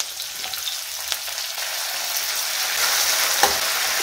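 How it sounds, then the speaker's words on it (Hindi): Garlic, green chilies and chunks of potato frying in a pan, giving a steady, dense hiss and sizzle with a few small crackles, close and continuous with no talking. "अब सारी सामग्री को भून लेते हैं। लहसुन मिर्च के साथ आलू को डालिए तो आलू भी अच्छे से फ्राई हो जाता है।"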